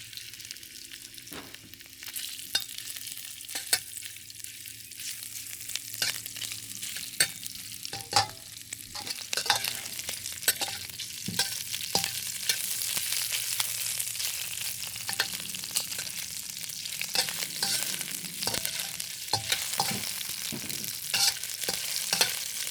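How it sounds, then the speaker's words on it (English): Shrimp frying in hot oil in a wok, a steady bright sizzle throughout with repeated sharp scrapes and taps of a utensil as the shrimp are stirred. "Okay, then I'm going to put the shrimp in it."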